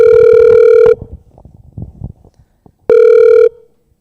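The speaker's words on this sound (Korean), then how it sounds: "전화가 가고 있습니다." An outgoing telephone call rings back with two loud, steady electronic tones, each held just under a second, separated by a pause with faint background noise.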